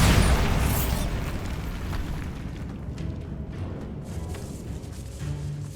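A Bombarda spell explodes in Hogwarts Legacy inside a decayed catacomb, one loud, deep blast at the start whose rumble fades away over several seconds.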